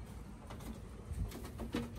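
Pigeons cooing in a loft in Pensacola, Florida, with a few soft, low coos rising briefly out of steady background noise at moderate distance.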